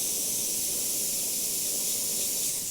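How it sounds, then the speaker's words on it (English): A steady, close airbrush hiss sprays black paint continuously without pause over a soccer ball, a bright even rush of air and paint. "using my black, I'll just spray out that overspray"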